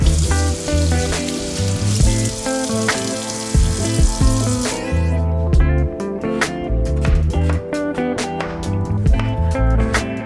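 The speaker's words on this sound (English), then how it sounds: "Step 1 is to wash and prep all the produce" Tap water runs into a kitchen sink while produce is washed, a steady close splashing flow with clattering handling noises and background music throughout.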